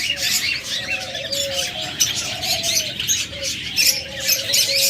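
Big albino budgerigars kept in pairs at a bird market stall, a busy close chatter of chirps and warbling calls, with a voice talking through it.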